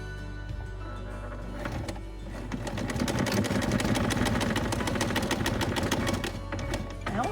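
A sewing machine stitches photos onto a scrapbook page, its rapid rhythmic needle clatter starting softly and then running steadily at close range.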